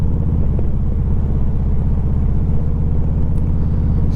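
Steady low Harley-Davidson motorcycle engine rumble while riding on a nice day, a continuous close throbbing drone with even pulsing and no talk.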